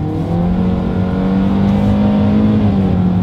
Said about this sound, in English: let's go ahead and get back to that acceleration test